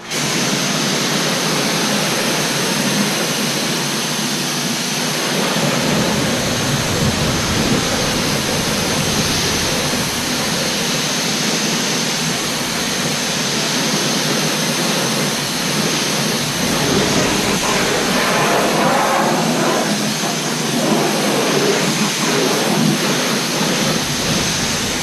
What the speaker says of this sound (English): We're going to go through and rinse off.